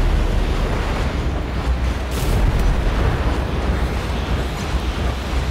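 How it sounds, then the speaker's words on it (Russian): An explosion in the video game Lords of the Fallen, a dense roaring rumble that swells slightly partway through and sustains loudly throughout without distinct separate blasts. "Вроде бы взрывается."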